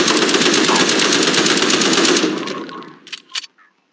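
A machine gun fires a loud, fast, continuous burst in the Kuner.IO shooter game. It cuts off after about two seconds, and a few short clicks and taps follow before silence.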